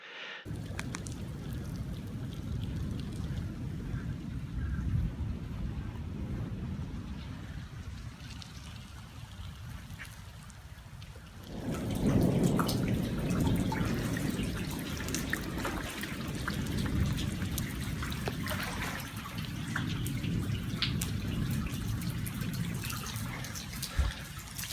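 Rain falls in the Halls Creek Narrows canyon in Capitol Reef National Park, a continuous close patter and trickle of water that grows denser and louder about halfway through, with no talking.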